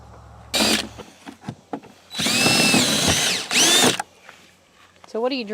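A power drill whines in two close, loud bursts while marking the corners of a chicken coop, with a short blip earlier and people talking softly in between.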